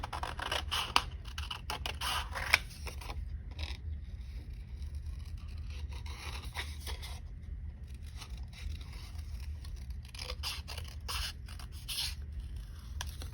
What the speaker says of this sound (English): I'm going to grab my other sign, my little sign here, and I'm going to cut my sign.